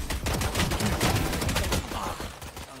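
Rapid gunfire from the video game Valorant, a dense, loud stream of shots overlapping for about two seconds before easing off, with no talk over it.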